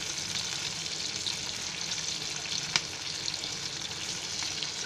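Stuffed capsicum fries in a pan with a steady, gentle sizzle and crackle throughout, punctuated by one brief sharper pop.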